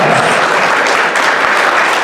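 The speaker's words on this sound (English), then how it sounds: "So let's all give her a huge round of applause" A convention audience at a sci-fi and writing convention's opening ceremony claps loudly in a dense, sustained burst of applause, a steady wash of many hands close and without pause.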